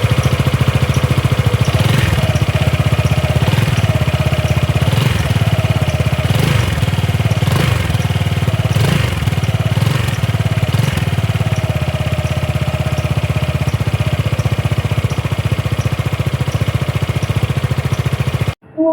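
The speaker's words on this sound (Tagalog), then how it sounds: "pakinggan naman natin yung kanyang exhaust sound, yung pinaka mismong tunog ng ating muffler" A 2026 Zontes 400M V2 motorcycle idles through its exhaust and muffler, close and steady for a long stretch, with a faint recurring tick in its rhythm.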